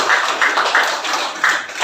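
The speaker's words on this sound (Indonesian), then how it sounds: "Terima kasih tepuk tangan untuk Bapak dan Ibu" A school class claps for their teachers in a short, rhythmic burst of hand claps, close and fairly loud, with several beats in quick succession.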